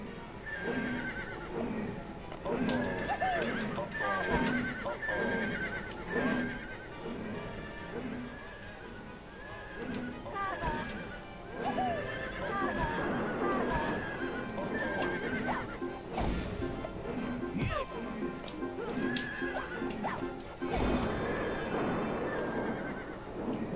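Repeated horse neighs and whinnies over steady clip-clop hooves, with some electronic impacts, continuing for the full stretch.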